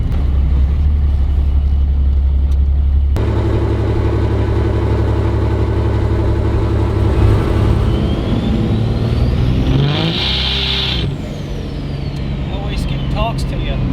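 A 2012 diesel truck with compound turbos drives around the block, its engine a steady, loud drone that swells briefly as it revs, followed by a rising turbo whistle.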